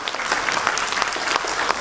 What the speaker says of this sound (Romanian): măcar așa să-i aplaudați